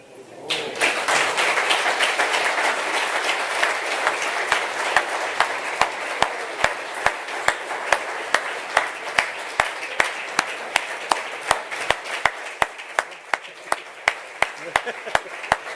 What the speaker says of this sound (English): On va laisser les applaudissements, ça le mérite.